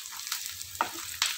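Shredded colored cabbage poriyal with coconut fries in a pan with a soft, steady sizzle, interrupted by two short scraping stirs of a spatula over about a second and a half.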